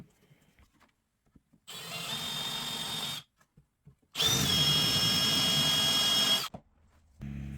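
A power drill driving threaded inserts into a wooden farmhouse table, with two steady whirring runs separated by short pauses and small knocks, then a brief start of a third run, close and clear with no talking.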